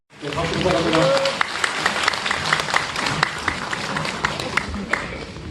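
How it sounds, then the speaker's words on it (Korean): An audience at a residents' meeting about rezoning Mokdong apartment complexes 1–3 bursts into applause, with dense clapping that swells quickly and keeps going at a steady level throughout, with speech mixed in. "박수 부탁합니다"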